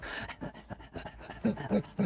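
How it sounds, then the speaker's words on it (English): Heavy, rhythmic panting plays alone as a sound effect, several quick breathy pulses close and fairly loud, growing stronger toward the end. "you hear in the background a heavy panting sound"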